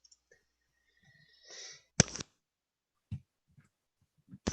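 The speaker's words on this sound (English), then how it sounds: "as I sneeze" A single short, sharp sneeze bursts out of near silence, followed by faint breaths and small scattered clicks.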